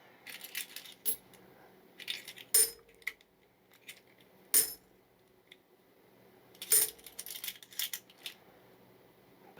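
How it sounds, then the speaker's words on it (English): A silver sixpence drops onto a hard surface, giving several sharp metallic clinks and a ringing bounce, with further clattering strikes spread through the quiet room. "I've just dropped a sixpence."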